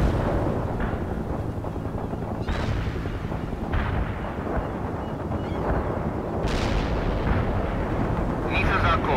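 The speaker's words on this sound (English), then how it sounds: "The artillery rounds are inbound." Artillery barrages pound continuously in the World in Conflict strategy game, a dense rolling rumble of heavy impacts and booms with sharper blasts breaking through, while voices chatter faintly underneath.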